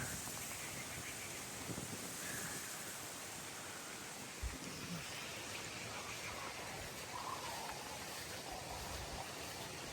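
Light rain falls steadily over rice paddy fields in the morning, a continuous even hiss with no distinct drops, faint and constant throughout.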